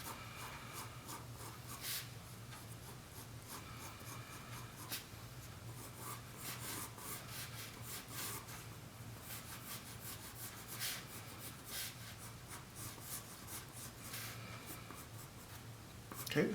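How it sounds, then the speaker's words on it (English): A pencil sketching circles on paper, its continuous scratchy rubbing strokes close and soft, running steadily throughout with faint background hum. "I'm going to draw in the circles."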